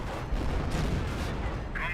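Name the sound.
Calliope rocket barrage in Company of Heroes video game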